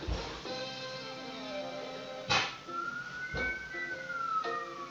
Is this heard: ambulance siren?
yes